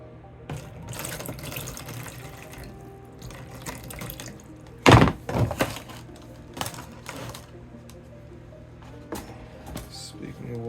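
Water trickles and splashes as petunia seedlings are watered indoors, with an uneven pouring sound, one louder gush midway and soft clicks around it.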